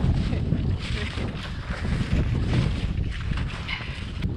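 Strong, gusting wind buffets the microphone in a steady low roar, with no voices, just continuous blustery noise across an open frozen lake in winter, around -10 degrees.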